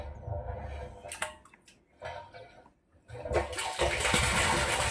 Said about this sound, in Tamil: இப்போ மோட்டர் ஆன் ஆகி தண்ணி வந்துட்டுருக்கு